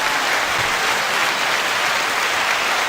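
An audience applauds in a steady, dense wash of clapping, loud and continuous with no voices on top.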